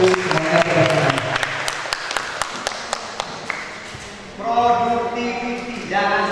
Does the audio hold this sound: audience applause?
yes